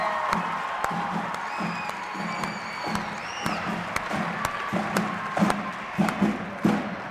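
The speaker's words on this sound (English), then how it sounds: "Let's give them one more big round of applause" A community pep rally crowd for a Final Four basketball team applauds and cheers, with steady clapping, scattered whoops and bursts of louder clapping near the end, filling the space with a continuous mid-level roar.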